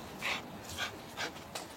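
A hunting dog tracking a moose in a European forest pants and snuffles in quick close bursts, soft repeated breaths with no talk.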